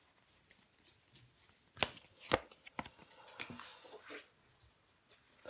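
Tarot cards being shuffled and laid out on a table, a few sharp riffling and slapping bursts in the middle, near and fairly quiet, with soft handling noises between.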